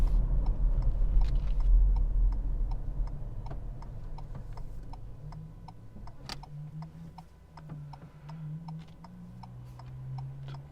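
A car's turn signal ticks steadily and evenly inside the cabin, a long run of crisp clicks over a low idling engine hum while stopped at a light.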